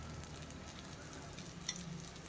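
Dosa batter made from mixed lentils sizzling in a little oil on a hot pan, a steady soft crackling hiss with one small pop, heard alone and fairly quiet.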